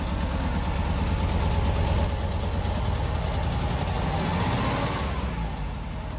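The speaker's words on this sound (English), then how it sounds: "It fired up almost immediately." A VW Kiddieland fire truck engine, just fired up after a gummed-up carburetor was cleaned, idles in a loud, close, steady rumble with no voices.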